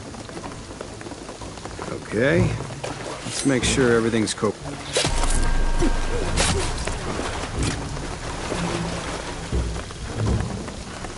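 In the video game Shadow of the Tomb Raider, heavy rain pours down with rolling thunder and loud crashes while someone talks over the storm.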